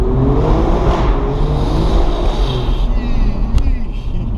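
Alfa Romeo Giulia Quadrifoglio with a 2.9-liter V6 pulling hard in first gear past an overpass, a steady loud engine drone rising in pitch, heard from inside the car with faint talk mixed in.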